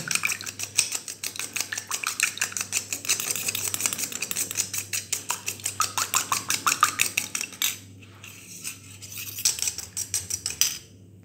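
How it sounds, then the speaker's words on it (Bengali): Yogurt with spices and water is whisked briskly in a bowl, producing rapid, regular clinking strokes up close that pause briefly and then resume. "জল দেওয়ার পরে আমি দইটাকে ভালো করে মশলাগুলো ফেটিয়ে নেব"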